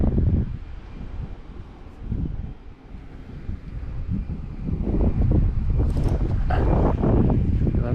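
Gusty wind buffets the microphone outdoors on a fall fishing outing, a continuous low rumble that strengthens toward the end, with faint other sounds mixed in.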